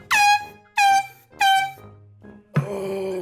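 An air horn is blown over a phone call: three loud, piercing blasts in quick succession, followed by a burst of harsh noise.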